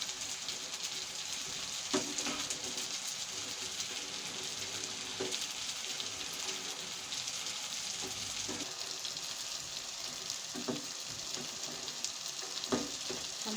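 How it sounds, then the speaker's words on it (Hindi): Macaroni fries in hot oil until crisp, giving a constant dense sizzle with occasional soft clinks of stirring, steady and close throughout, with no talking. "ये हम अच्छे तरीके से इनको भी फ्राई कर लेते हैं।"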